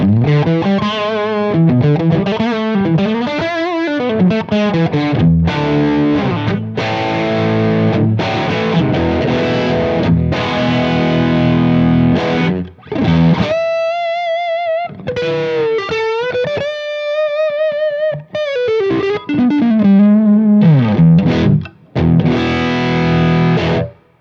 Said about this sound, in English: when you apply a little bit of Plexi Drive to it, it sounds like this